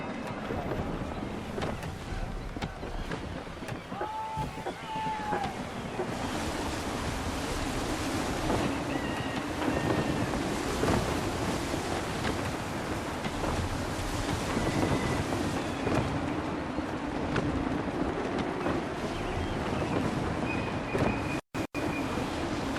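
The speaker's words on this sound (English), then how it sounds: "Gusty winds can be difficult to manage." Gusty wind rushes steadily over open sea while a sailing ship cuts through the waves in Assassin's Creed III. Surf and wind noise fill the whole stretch, with faint voices underneath.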